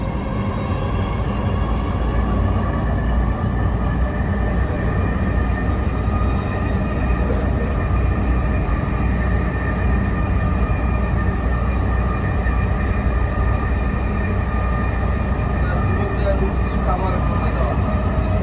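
Metro rail train running, a steady loud rumble and whine of the carriage throughout with faint tonal hum, and voices heard under the noise.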